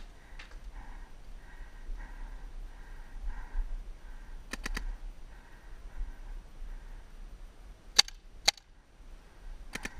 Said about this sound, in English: Shooting from the left side now.